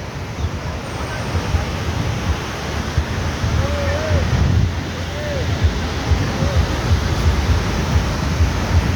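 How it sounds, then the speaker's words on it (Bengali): Strong wind buffets the microphone at Chandrabhaga sea beach, a steady broadband roar blended with the wash of surf, loud and continuous throughout, with a few faint bird calls in the distance. "প্রচুর হাওয়া, দারুণ লাগছে।"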